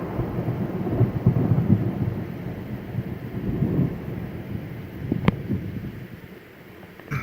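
Distant thunder from a lightning storm during an outdoor dove hunt, a low rolling rumble that builds and fades across the clip with one sharp crack near the end.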